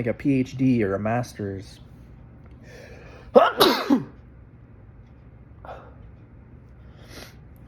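A single sharp sneeze bursts out once, loud and close, after a stretch of speech, followed by a faint sniff and quiet room tone.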